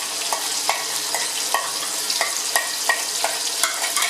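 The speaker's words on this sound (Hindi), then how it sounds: "फ्राई कर लेंगे, क्योंकि ये जो टमाटर है ये फ्राई हो जाए।" Tomatoes fry and sizzle in a pan for garlic bhindi, a steady close hiss broken by regular soft scrapes of a spoon stirring every half second or so, with no voices.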